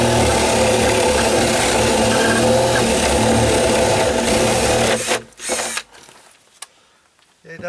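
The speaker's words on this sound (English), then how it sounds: "So I'll just get this out and drill one down here." A power drill bores a hole into a dry-rotted wooden deck during a repair. The whine is loud and steady for about five seconds, then cuts off, leaving brief scraping and handling noises.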